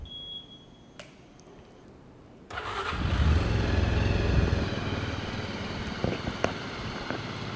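Quiet idle ambience with a couple of faint clicks, then a Zontes motorcycle engine cranks and fires, settling into a loud close running idle.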